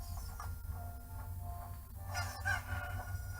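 A Cucco chicken in a Zelda game at Hyrule Castle gives a short burst of clucking and crowing partway through, over quiet game background sound.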